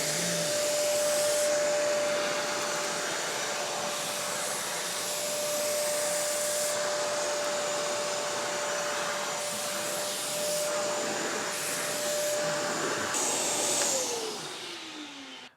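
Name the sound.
Karcher WD3 wet and dry vacuum cleaning an area rug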